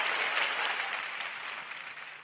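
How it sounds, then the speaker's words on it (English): Audience applause at a Nigeria Fintech Week 2025 session greets a technology executive, a dense, steady wash of many hands clapping that fades slightly toward the end. "A round of applause."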